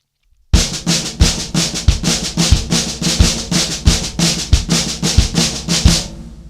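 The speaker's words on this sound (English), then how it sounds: "essentially you're going right flam right," A fast, steady flam tap drum fill of crisp snare strokes and grace-note doubles, punctuated by regular low bass drum hits, played close and loud with no talking.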